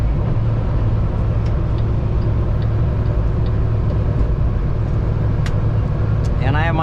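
Car engine hums at about 1540 RPM while cruising at 90 km/h on a highway in low gear with the AC running, a steady broadband rumble of road and engine noise with a voice talking over it.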